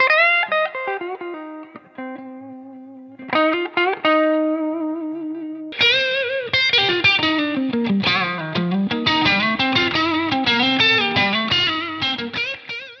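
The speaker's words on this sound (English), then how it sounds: "we've added a whole load of sounds in between, so you can get just breaking up blues and rock tones" Electric guitar played through a Victory V130 Super Countess valve amp on a breaking-up blues-rock setting: loud sustained chords and single notes first, then a busy run of picked licks, heard alone.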